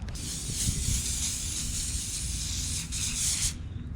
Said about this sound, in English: I'm going to spray the top rack now.